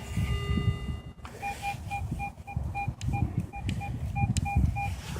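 A metal detector sounds a repeated two-tone beep on a buried target, likely a coin, steady short pulses over outdoor rustle and handling noise.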